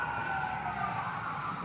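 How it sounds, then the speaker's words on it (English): Ambulance sirens wail faintly in the distance, passing by near the golf course at the Masters, a steady, muffled tone that holds without a break. "Sorry about the ambulances going by here."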